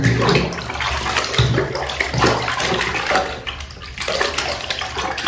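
Water splashing and running steadily as an Ondel-ondel doll's face is washed, a continuous close wet rush with small splashes throughout, no talking.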